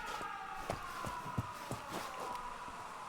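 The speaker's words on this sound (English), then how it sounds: "What's that sound? Air raid sirens." Air raid sirens in the video game 13 Sentinels, a sustained wailing tone droning steadily beneath faint thuds and game noise.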